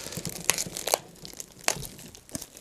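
King crab leg being torn apart by hand: several sharp cracking and crunching snaps of shell spaced irregularly, close and crisp, with faint crinkling in between.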